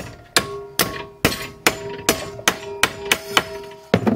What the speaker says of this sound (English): And then I'll hammer it over.